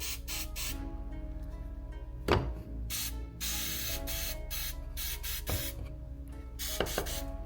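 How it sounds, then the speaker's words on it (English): Spray lubricant hisses in a series of short and long bursts onto a garage door's motor rail and parts, separated by brief pauses and a few clicks of the can. "give a light spray to the motor rail"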